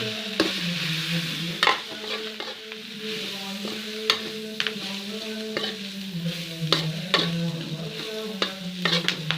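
Mustard greens stir-fried in fragrant spice paste in a wok, a steady close sizzle with a low hum beneath and frequent sharp scrapes and clacks of a spatula stirring throughout, no talking.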